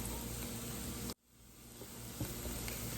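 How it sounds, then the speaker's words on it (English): Onions sizzling in a pot for a pureed chicken pot pie, a steady broadband frying hiss that drops out abruptly for a moment and then gradually swells back to a constant sizzle, with no talking. "we're just gonna let the onions cook in here"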